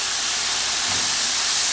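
Stock poured into a hot pan of shrimp risotto gives a loud, steady hiss of steam and spitting liquid, close and continuous throughout, with no talking.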